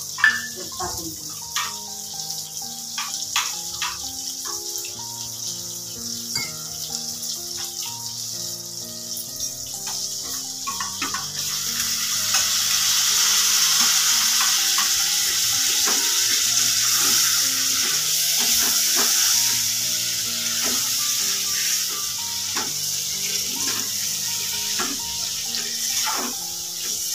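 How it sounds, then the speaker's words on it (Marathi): Spice paste mixed with water poured into a pan of frying stuffed brinjal, a sizzle with stirring clatter that swells into a louder, steadier bubbling hiss partway through, close by and without speech. "मी वाटण त्यात पाणी मिक्स करून त्यात टाकून द्यायचं"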